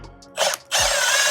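A hand ratchet clicks loudly and close up while backing out bolts on a V8 Dodge Charger R/T, two short bursts of rapid pawl ratcheting separated by a brief pause.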